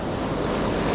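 Ocean surf waves breaking along a beach where surfperch are fished, a dense continuous roar of churning water mixed with wind noise, loud and close.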